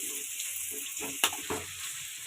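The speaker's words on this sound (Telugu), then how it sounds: "ఇప్పుడు కరివేపాకు వేసుకోవాలి ఆనియన్ బాగా ఫ్రై కావాలి" Onion and curry leaves frying in a pan for Karnataka-style vangi bath, a continuous close hiss of hot oil with a couple of sharper pops and stirring scrapes, no voices.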